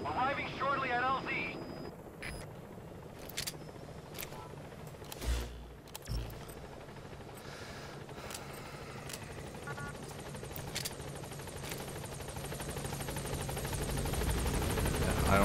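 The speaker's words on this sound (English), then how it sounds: "Support helicopter has arrived." Support helicopter from the game Metal Gear Solid V arriving at a landing zone, a steady rotor drone filling the whole stretch and swelling louder toward the end, with game speech and effects layered over it.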